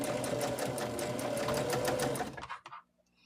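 A sewing machine runs steadily while stitching a placemat and napkin holder, its fast needle rhythm humming continuously before slowing in a few uneven stitches and stopping.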